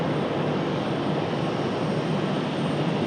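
A jet aircraft departs Raleigh Durham airport, its engine roar a steady, loud, broadband rush that holds without letup, heard alone with no voices.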